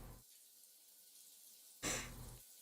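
A tap is turned on in a dark room with the water already running: a faint, steady hiss of flowing water, broken by a louder gush or breath-like rush near the end, with no speech.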